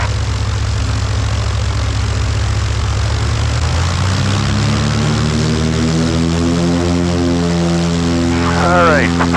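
Small propeller airplane engine roaring during its takeoff roll, loud and close from the cockpit, the steady drone rising in pitch as power and speed build, with a voice speaking over it.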